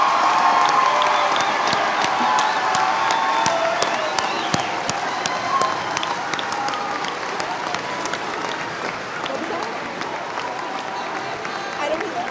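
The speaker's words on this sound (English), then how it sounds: "Let's give our class of 2022 a huge applause." Large audience at a school graduation ceremony for the class of 2022 applauds and cheers steadily and loudly, dense clapping with shouts and whistles that slowly eases over about twelve seconds.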